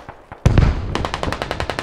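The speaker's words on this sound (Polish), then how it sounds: "Granat." A grenade explosion in the combat video game Squad, a sudden loud blast followed by a dense, rapid crackle of gunfire-like reports, close and harsh, with a couple of faint sharp pops just before it.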